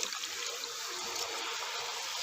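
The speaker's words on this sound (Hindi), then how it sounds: "अब मैं इसके अंदर पानी शामिल कर दूँगा।" Water pours steadily into a pot of vegetable pulao, a dense, continuous rushing splash lasting a couple of seconds, close and fairly loud with no talk over it.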